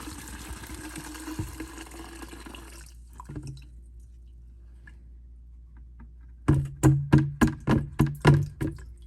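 Liquid glugs and pours in a burst, then after a quiet stretch comes a run of rhythmic gurgling glugs, as fluid is poured from a container into a Honda Harmony lawn mower's fuel tank.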